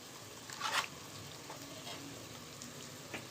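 Eggs frying in a pan with garam masala and chicken masala, giving a steady soft sizzle with a brief louder burst of spattering near the start and a faint clink later, no talk.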